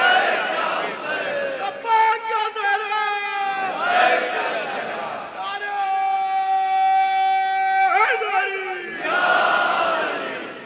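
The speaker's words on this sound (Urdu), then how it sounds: "ابھی نعرہ لگ گیا لبیک یا حسین کو" A crowd at a Muharram majlis (matam gathering) chants the slogan Labbaik ya Hussain in loud, sustained, tonal collective cries that swell and fall in repeated waves across the whole stretch.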